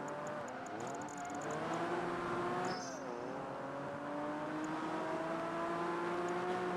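Race car engines in the Xbox racing game Project Gotham Racing 3 during an online multiplayer race, loud and steady throughout, with rising and falling engine pitch as gears change and cars jostle close together.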